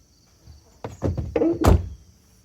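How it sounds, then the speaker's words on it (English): Car door thudding shut with a heavy slam, preceded by a few softer knocks and rattles, close and alone without talk. "I just smashed my own hand in the car door."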